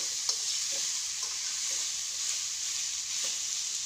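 Bamboo shoots fry simply in a pan, giving a steady close sizzle broken by several brief scraping stirs of a utensil.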